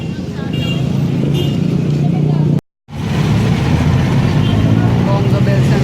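Loud street traffic with jeepneys and other vehicles rumbles steadily nearby, engines droning continuously, with a brief total cutout midway before the roar resumes.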